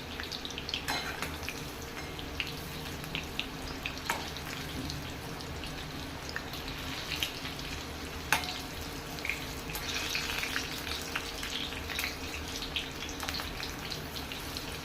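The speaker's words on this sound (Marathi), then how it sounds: "आता आपण दुसऱ्या बाजूने पण भजी तळून घेऊया" Sweet corn fritters fry in a pan of oil, giving a continuous close sizzle with scattered crackles and occasional light clinks of a utensil, no speech.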